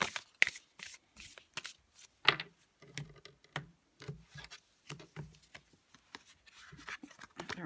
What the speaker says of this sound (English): I'm going to pull 3 cards to end the reading.